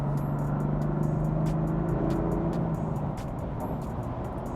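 An MHD tuned 2015 BMW M3 cruises on the highway. Its engine holds a steady low drone under a constant wash of road and wind noise from inside the cabin, with no talking.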